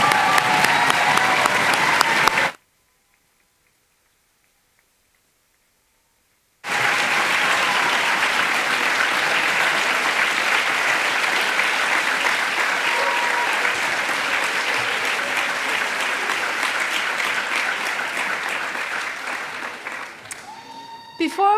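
A large graduation-ceremony audience bursts into loud, dense applause that cuts out completely for about four seconds, then resumes, continues at full strength and slowly fades, with a voice speaking at the very end.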